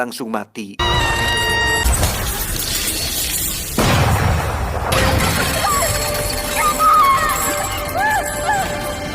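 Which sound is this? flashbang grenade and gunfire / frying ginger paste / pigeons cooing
flashbang grenade and gunfire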